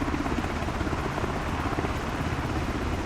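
An MH-60 helicopter in a flight simulator game gives a steady, continuous rotor and engine drone that holds an even, fairly quiet level throughout, with no talking.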